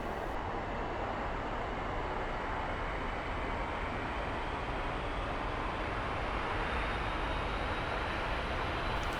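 An F-86F jet engine in DCS spools up after start toward 30% RPM, a loud, steady broadband roar and whine that holds constant and builds slightly toward the end.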